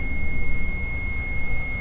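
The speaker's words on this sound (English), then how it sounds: "Can you make it stop beeping for us, sir?" A REM pod emits a steady high-pitched electronic tone continuously over a low rumbling background at Sachs Bridge, Gettysburg, like an alarm device giving a constant beep.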